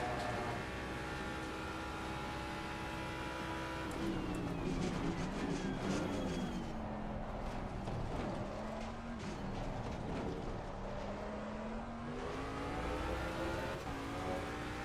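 A Porsche race car revving hard in Assetto Corsa Competizione, the engine note climbing and dropping through repeated rising pitch sweeps as it is held out before shifts, steady and fairly quiet, with no speech.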